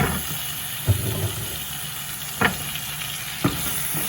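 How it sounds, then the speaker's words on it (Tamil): Jackfruit seeds sizzle in a pan with drumsticks and onion, a steady close frying hiss broken by three soft knocks of stirring. "இதில் வந்து நான் வந்து பல்லாக்கொட்டையை போட போகிறேன்"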